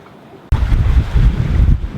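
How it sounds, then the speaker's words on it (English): Strong wind of about 20 to 25 knots roars across a sailing boat crossing the English Channel, a loud, sudden buffeting rush that swells in after a quiet half second and keeps blustering close to the microphone. "The wind has freshened up a bit."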